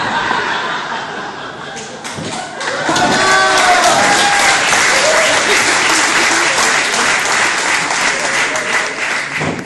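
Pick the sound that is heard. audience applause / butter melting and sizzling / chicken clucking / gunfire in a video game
audience applause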